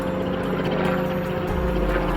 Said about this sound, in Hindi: प्रकाश अपनी लैब में एक हेलीकॉप्टर लेकर आता है और उस पर कुछ एक्सपेरिमेंट करता है